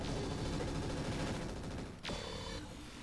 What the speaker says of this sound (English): Yeah, machine guns have got to go.